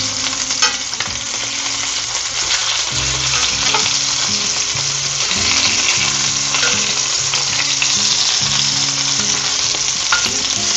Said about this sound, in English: It's so tempting to skip the searing phase, but don't skip it